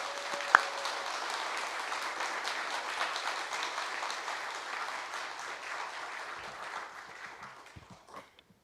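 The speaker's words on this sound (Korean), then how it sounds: "사모하는 마음으로 우리 큰 박수로 목사님 모시겠습니다." A church congregation claps to welcome the pastor at a Sunday service, an even wash of applause from many hands, moderately distant, fading out over the last couple of seconds.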